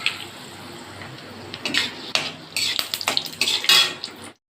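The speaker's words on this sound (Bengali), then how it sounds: "এই গোলমরিচটা ফোড়ন দিলাম এতে।" Black peppercorns tossed into hot oil in a pot while making Bengali-style chicken jhol, giving a run of close clinks and brief crackling spatters that build toward the end, with no talking.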